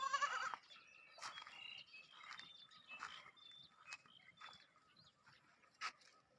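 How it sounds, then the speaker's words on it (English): Goats on a farm in rural Thailand bleat in short, scattered calls, one louder near the start and fainter ones spread after, with light rustling between. "Happy goats."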